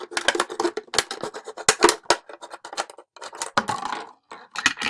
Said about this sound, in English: Okay, so my scissors is through. I'm just going to cut around along the line.